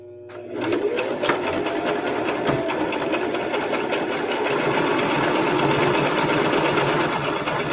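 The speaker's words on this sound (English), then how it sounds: "I'm going to line it up and I'm going to sew." Sewing machine stitching plain fabric for a tissue holder, a steady loud motor whir with rapid needle clatter running continuously after a brief start, no talk.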